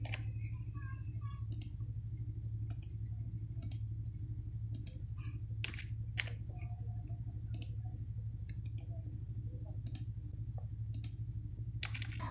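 Steady computer keyboard typing with quick clicks and a few louder key taps, close and fairly quiet over a constant low hum, no talking.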